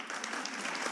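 A studio audience on a talk show claps in a brief, faint burst of dense applause that lasts about a second.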